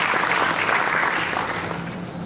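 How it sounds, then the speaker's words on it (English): Audience at a company's silver jubilee celebration applauds, a dense, even roar of clapping that holds steady and fades slightly over a little more than two seconds, with no voices. "I think it deserves a huge applause."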